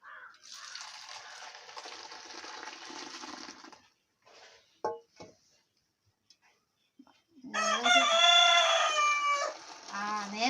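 A rooster crows loudly and close by near the end, after a long stretch of steady rushing noise and a few sharp knocks.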